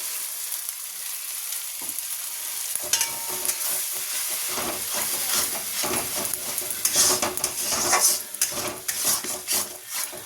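Thick Bengali doi katla curry with yogurt and cashew-poppy paste being stir-fried in a pan, a steady sizzle broken by frequent scraping and clinking of a spoon against the metal, close and moderately loud with no talking.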